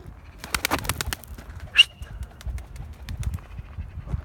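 Pigeons in a coop, with irregular wing flaps and rustling up close, a brief bird call in the middle, and soft low cooing underneath.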